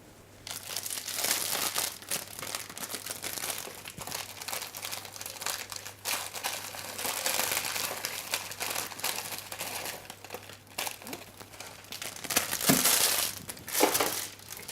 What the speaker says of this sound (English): let's put the sugar in with the butter